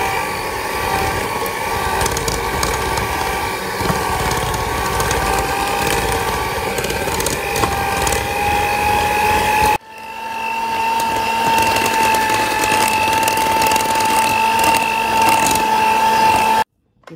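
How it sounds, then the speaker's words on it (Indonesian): An electric mixer beats Arab ka'ak cookie dough at medium speed with a steady, close mechanical whir that briefly cuts out midway and stops at the end. "Ini kita mixer sampai dia lembut aja."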